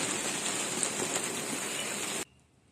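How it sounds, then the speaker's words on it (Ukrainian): A heavy rain downpour hisses loudly and steadily on surfaces close by, then cuts off abruptly near the end. "Незважаючи на те, що в нас злива."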